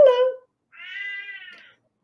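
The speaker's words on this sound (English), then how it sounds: "That's the cat." A house cat gives a single drawn-out meow lasting about a second, clear and fairly close, just after a short spoken word.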